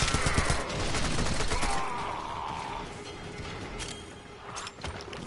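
A submachine gun fires in the video game Warframe, with rapid bursts of gunfire crackling densely at the start and then thinning to scattered shots and mechanical clicks.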